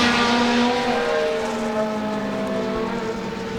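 A Jaguar V12 Le Mans race car from the low-drag era runs at a race-meeting demonstration, its loud, sustained engine note sliding down in pitch as it passes close by, with no voices.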